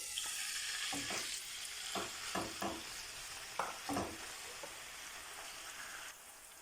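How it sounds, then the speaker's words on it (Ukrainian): Chicken fillet strips sizzling in hot sunflower oil in a pan, with several distinct stirring scrapes and clatters over a steady frying hiss; no talking. "Куряче філе нарізаємо соломкою і обсмажуємо на соняшниковій олії 10 хвилин."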